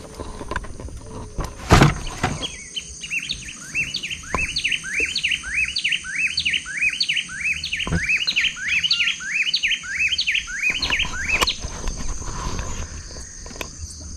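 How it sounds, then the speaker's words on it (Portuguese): A bird chirps rapidly and continuously in a long rhythmic run of bright, repeated notes, loud and close, after a brief knock at the start. "Nós vamos encerrar aí o nosso vídeo com o som dos pássaros."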